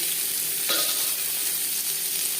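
A ground paste of green chili, tomato, garlic and onion fries in two spoons of refined oil, giving an even, close hiss with one brief scrape of stirring partway through.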